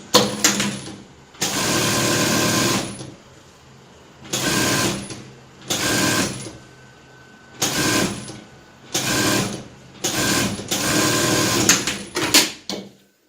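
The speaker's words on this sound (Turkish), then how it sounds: "overlockla temizledikten sonra dikiş çektiğimiz yere bedene bir çıma çekiyoruz" A sewing machine running a stitch line along a vest body seam after overlocking, in repeated loud whirring runs of one to three seconds each, broken by brief pauses, close and with no talk over it.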